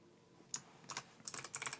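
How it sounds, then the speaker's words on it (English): Typing on a computer keyboard, a few quick clicky keystrokes in small bursts, close and fairly quiet, with no talking. "Didn't even start typing."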